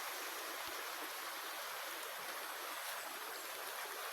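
Steady broadband rush of a flowing mountain stream, continuous and fairly faint, with no voices over the water.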